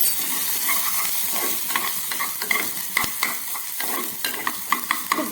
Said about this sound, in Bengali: খুব ভালো করে এটাকে ভেজে নিই